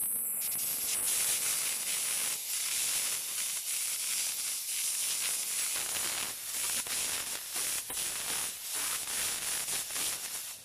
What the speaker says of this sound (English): This is the steam.